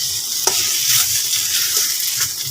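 Taro greens with chickpeas cooking in a pan give off a steady, loud sizzle of simmering liquid, with a few stirring clicks, close up and with no voices.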